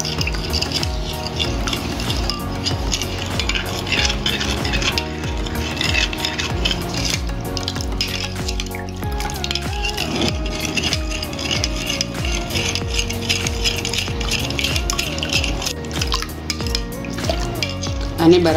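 Besan papdi ingredients, soda, oil and water, are stirred together in a bowl, making a continuous scraping, rubbing whisk that runs unbroken and close throughout.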